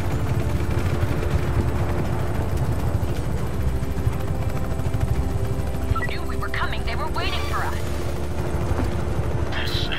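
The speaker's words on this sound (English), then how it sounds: "We'll lose the choppers at least." Helicopters thrum in the Just Cause 3 video game alongside bursts of gunfire and other game action, a continuous rotor drone with rapid shots layered on top.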